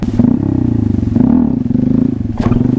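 A small Honda Grom motorcycle engine idles with a loud, pulsing putter, then revs up and back down twice, the pitch rising briefly each time.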